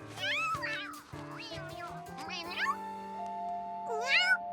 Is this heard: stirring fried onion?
no